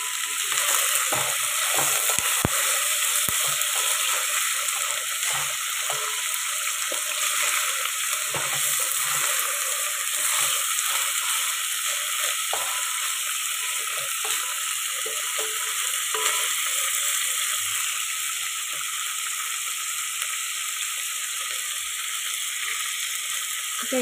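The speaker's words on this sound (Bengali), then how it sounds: "এটা একটু ভাজা ভাজা হোক" Chili frying in hot oil in a pan while making vegetable biryani: a steady, loud, close sizzle that runs without a break, with occasional faint scraping or stirring sounds underneath.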